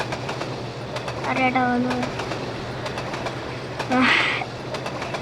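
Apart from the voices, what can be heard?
Bangladesh railway locomotive running, from video game Trainz Simulator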